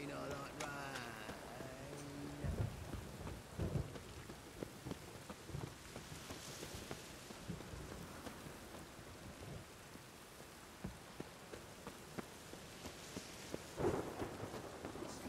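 Rainstorm with thunder in The Witcher 3: Wild Hunt, steady rainfall on surfaces with a deep rumble of thunder and scattered sharper cracks, faint and continuous, with a voice briefly speaking early on.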